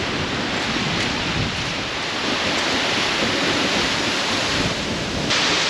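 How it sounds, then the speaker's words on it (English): Strong wind gusting near a waterfall in Iceland, a steady, loud broadband roar that fills the whole stretch without pause, mixing buffeting wind on the microphone with the rushing spray of falling water, no voices. "It's been super windy today as well"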